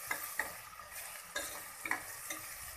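Chopped onion sizzles and browns in a pan for pav bhaji, a soft, steady frying hiss broken by quiet scrapes and stirs, heard close with no talking.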